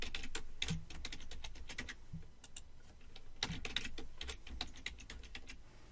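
Quick bursts of keystrokes on a computer keyboard while entering a password, irregular clusters of crisp clicks with short pauses, close and fairly quiet, no voices.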